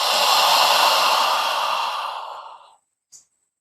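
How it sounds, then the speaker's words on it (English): One deep, full out-breath rushes out loud and close, easing off over about two and a half seconds, followed by a brief soft breath sound. "breathe with me a couple of times with a very open, full out-breath"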